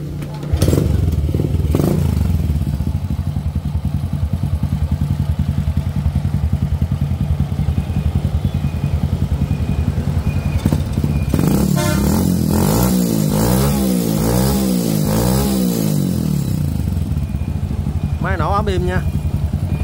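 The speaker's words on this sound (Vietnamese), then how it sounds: "nổ máy cho cả nhà mình xem nghe tiếng máy nha." A small 110cc Citi motorbike engine kicks over and settles into a loud, close, steady idle, then revs up and down in rising and falling bursts.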